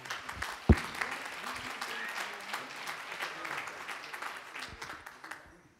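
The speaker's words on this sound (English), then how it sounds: "we want to give each and every one of our own selves a hand clap of love and a hand clap of welcome" A church congregation gives a welcoming round of hand clapping at a Sunday morning service, a soft, scattered patter of claps under a nearby voice, with one sharp loud thump early on before the clapping tapers off.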